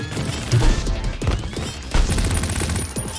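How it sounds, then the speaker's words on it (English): Gatling guns firing in the video game CrossCode, bursts of rapid staccato shots mixed with crashing impacts, loud and busy with no voices. "These Gatling guns hurt."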